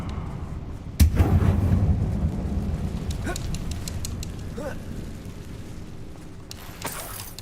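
A Confringo fire-spell blast in the Hogwarts Legacy video game: a sudden sharp blast followed by a deep, rolling rumble that slowly fades, with scattered crackles and a faint later burst.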